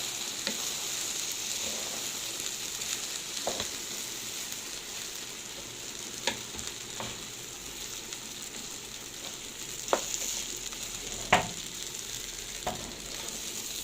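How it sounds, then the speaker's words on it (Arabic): Rice sautéed with orzo in a pot on a gas stove gives a steady, moderate frying sizzle, broken by occasional faint clicks and scrapes of stirring, with no one speaking. "ندي بقى الرز كده تشويحه مع لسان العصفور"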